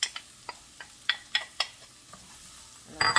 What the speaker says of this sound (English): And I'm sauteing my onions.